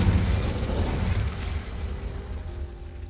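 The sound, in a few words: Incendio and Confringo spells cast in Hogwarts Legacy video game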